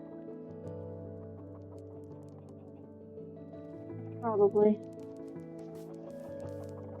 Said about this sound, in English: There's so many chickens.